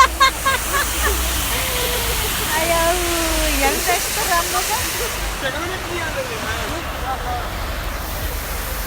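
A waterfall rushes as a steady, broad roar throughout, close and loud, while a voice speaks over it.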